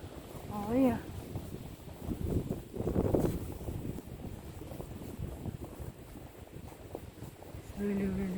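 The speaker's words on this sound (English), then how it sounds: "It's really, really windy." Strong wind on a farm during a snowstorm buffets the microphone in steady gusts that roar and rumble, while a person speaks briefly at the start and end.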